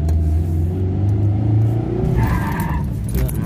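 Car engine revving hard in first gear to spin a tire, a loud continuous roar with tire squeal and skidding, rising and shifting toward the end.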